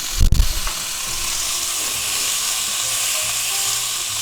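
Butter melts in a hot pan beside a thick London broil steak, giving a steady close sizzle and hiss after a short clatter at the start.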